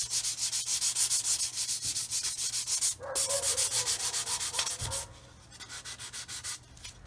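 A 200 grit sanding sponge rubbed over a 1/48 scale model fuel tanker, rapid rhythmic back-and-forth scrubbing strokes, close and steady with a brief pause.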